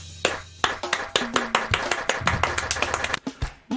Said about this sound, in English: Stop clapping every time I talk.